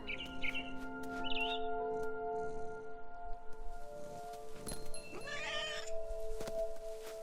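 Cat meows and yowls in the video game What Remains of Edith Finch over a steady tonal game soundtrack, with occasional bird chirps and clicks mixed in.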